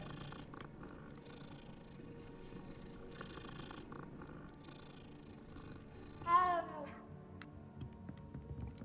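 A cat purrs steadily in Hogwarts Legacy, a low, soft rumble under quiet game ambience, followed by a single short meow near the end.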